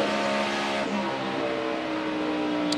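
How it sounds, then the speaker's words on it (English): A NASCAR Sprint Cup race car engine at Pocono holds a high, steady drone at constant revs without shifting, loud and continuous throughout. "You hear the difference in the RPMs when you're shifting and you're not shifting."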